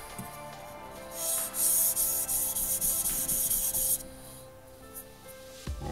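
A Japanese gyuto knife is sharpened on a stone with close, rhythmic scraping strokes. The strokes are loudest for a couple of seconds in the middle and sit over a quiet background hum.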